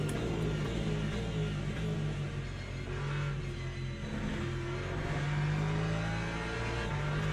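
A race car in Le Mans Ultimate accelerates out of a corner, its engine note rising and falling through gear changes in a sustained, moderately loud drone with no talk over it.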